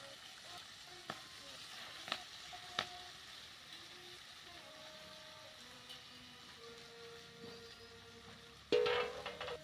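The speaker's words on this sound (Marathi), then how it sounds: "आता आपण भाजी टाकून घेऊया." Fenugreek (methi) greens fry in a pan over a wood-fired village stove, a faint steady sizzle with a few soft clicks, swelling into a louder hiss near the end.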